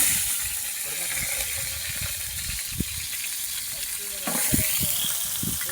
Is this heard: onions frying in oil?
yes